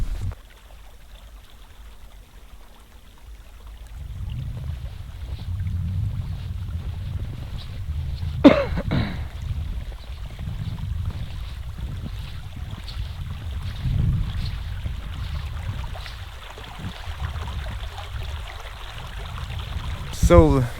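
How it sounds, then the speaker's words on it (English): Water flowing in the background on a hike, a low steady rushing wash with wind buffeting the microphone and occasional clicks, fairly faint throughout. "So, can you hear the background noise from the water here?"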